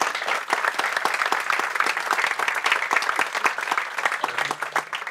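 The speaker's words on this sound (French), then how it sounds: "on peut les applaudir" An audience applauds at the close of a French television show, dense continuous clapping from a crowd, fairly loud and even from start to finish with no voices on top.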